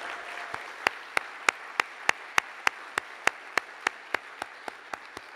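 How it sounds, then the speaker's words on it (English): Applause for the speakers at an urban-education keynote: evenly spaced, sharp claps in a steady rhythm over faint room hiss, holding the same pace for several seconds and fading slightly toward the end. "let's give them a round of applause."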